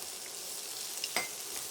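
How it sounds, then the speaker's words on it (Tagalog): Garlic and onion sauté in a pan as fish with black beans and tofu is prepared, giving a steady soft broadband sizzle with one brief sharper clack of a utensil near the end; no talking. "magigisa tayo ng bawang. At yung ating sibuyas. Palambutin lang natin to."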